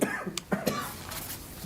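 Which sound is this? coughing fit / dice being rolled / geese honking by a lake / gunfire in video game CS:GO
coughing fit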